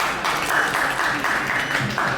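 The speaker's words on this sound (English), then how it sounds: "So can we please give a round of applause?" Round of applause from an audience at a film trailer launch press event, steady continuous clapping across the whole moment with no break.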